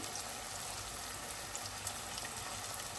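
Turmeric and chili powder fry in oil in a pan for a drumstick masala curry, making a soft, steady sizzle with light bubbling and a faint high whine throughout.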